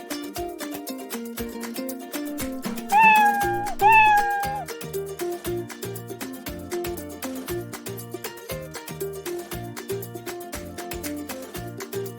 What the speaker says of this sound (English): I use Scratch to make a cat sprite talk with a recorded sound.